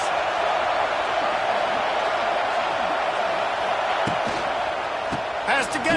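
College football stadium crowd at Tennessee versus Texas A&M roaring steadily on a fourth down, a dense continuous wash of noise beneath a commentator's voice.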